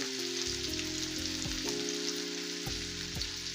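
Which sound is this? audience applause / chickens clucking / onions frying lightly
onions frying lightly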